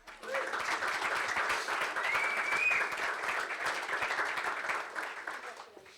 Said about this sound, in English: We'll just get a photo and another round of applause, please.